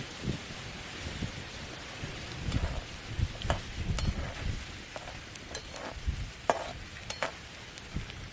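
Edible gum (gundar) frying in hot oil in a pan in a village kitchen, a soft continuous crackle and sizzle with low rumbling thuds and stirring knocks, moderately close.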